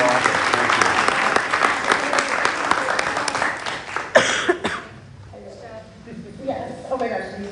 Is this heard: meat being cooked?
no